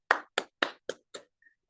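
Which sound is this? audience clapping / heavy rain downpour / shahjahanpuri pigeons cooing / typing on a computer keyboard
audience clapping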